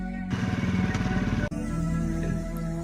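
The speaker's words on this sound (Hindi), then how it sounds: "जहां गाड़ी की स्पीड अचानक से कम हो जाती है और उसकी बाइक रुक जाती है" A motorcycle engine runs with a steady, pulsing drone, cuts out abruptly partway through, then gives way to a lower, quieter rumble as the bike comes to a stop.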